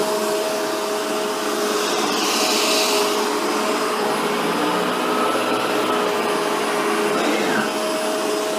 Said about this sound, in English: As I tilt the vacuum back, you'll notice that the brush bar kicks in, and a light here will go on.